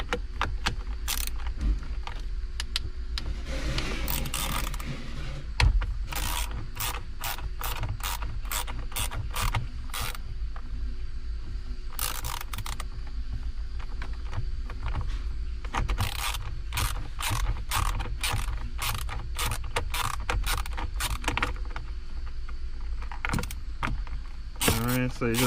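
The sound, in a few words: unscrewing part during Kia Sorento clock spring replacement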